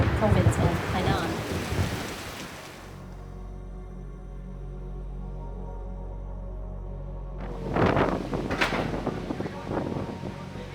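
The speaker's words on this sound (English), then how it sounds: "Yagi, Asia's most powerful storm this year, has arrived in Vietnam" Heavy rain pours from storm Yagi over Hanoi, a dense steady roar with thunder-like rumbles, loud at the start and end with a quieter low-rumbling stretch between.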